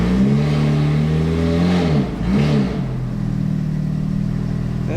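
A naturally aspirated supercar engine revving toward 9,000 rpm, loud and close, climbing and falling in pitch twice before settling into a steady higher drone.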